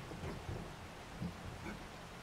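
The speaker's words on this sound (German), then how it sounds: "Es regnet." Rain falling steadily with low rumbles of thunder inside the survival video game 7 Days to Die, a continuous wash of rain noise with a few soft thunder swells, no talk.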